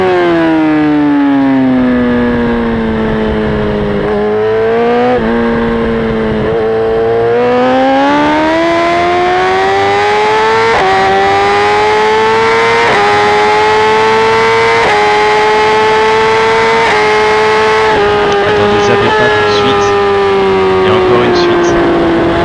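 A BMW S1000RR inline-four sport motorcycle accelerates around the Le Mans circuit on a track day, its loud, close engine wail climbing through the revs, dipping at gear changes and rising again continuously.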